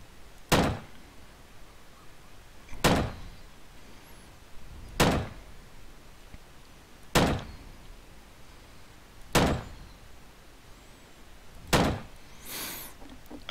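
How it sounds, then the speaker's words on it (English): Rifle shots fired one at a time in the video game Rust, six evenly spaced sharp cracks, each about two seconds apart, moderately loud against a quiet background. "I will just fire some shots and let's see what happens."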